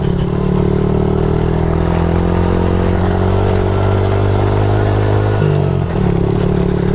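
A Suzuki DRZ 70 dirt bike engine runs loud and close at a steady high drone during a speed burst, with a short dip in pitch near the end as if shifting, then pulling on again.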